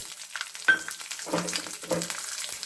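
Roasted peanuts and green chilies dropped into hot oil for moringa leaf pulihora, soft irregular sizzling bursts close by with a few stirring clatters.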